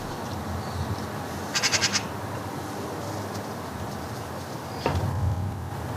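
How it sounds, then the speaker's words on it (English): A baby magpie gives a short cluster of thin, rapid squeaks, then a later brief call, faint against a soft outdoor hush. "Mum and Dad must be visible to the baby as it begins to squeak"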